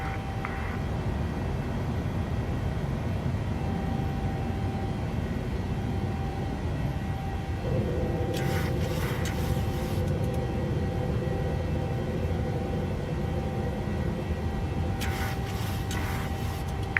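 A PMDG 737-800 jet climbing after takeoff in Microsoft Flight Simulator gives a constant, even engine roar with a steady whine and a couple of brief clicking bursts. No one talks.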